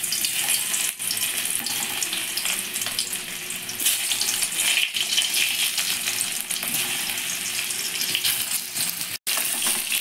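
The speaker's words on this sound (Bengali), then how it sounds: "এবার কেটে রাখা নুন হলুদ মাখানো আলুগুলো দিয়ে ভেজে নিচ্ছি" Potato pieces coated in salt and turmeric frying in hot mustard oil, giving a loud, dense, continuous sizzle that holds steady for the whole stretch with only a momentary dip near the end.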